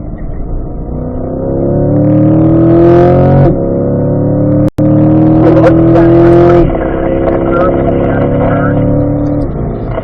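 A Chevrolet C8 Corvette accelerating hard down a race track straight, engine note climbing steadily through the gears with a brief break at a shift, loud and close from inside the car.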